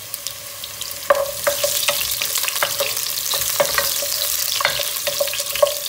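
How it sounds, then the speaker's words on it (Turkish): Carrots and onions frying in a pot, a steady close sizzle with repeated clinks and scrapes of a spoon stirring the vegetables, no talking. "Havuçlarımız, soğanlarımız kavrulmaya başladı."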